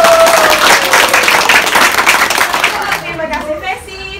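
A university student community-program audience claps loudly and densely, the applause thinning toward the end while a voice speaks over it.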